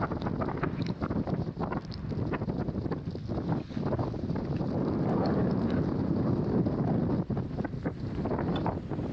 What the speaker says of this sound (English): look how the snow is being swept away by the wind